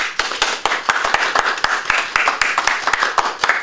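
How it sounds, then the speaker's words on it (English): A small audience at a university leadership race Q&A claps for the candidates, sharp distinct handclaps in an irregular, fairly sparse pattern, close and crisp over a few seconds. "Let's give them a round of applause."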